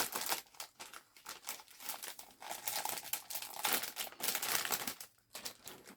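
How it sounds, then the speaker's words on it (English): Plastic wrapping being crinkled and peeled off a new binder, close and loud, in irregular crackling bursts with brief pauses between pulls. "In this plastic, I'm going to remove it out as plastic."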